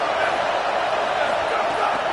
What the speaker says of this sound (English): Manning trying to quiet this crowd